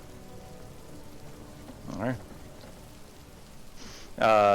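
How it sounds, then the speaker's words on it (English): Steady light rain from a sound effect hisses softly and continuously in the background of a pirate-themed tabletop game session, with a voice speaking briefly over it. "I will switch to a rain sound effect instead of a thunderstorm sound effect."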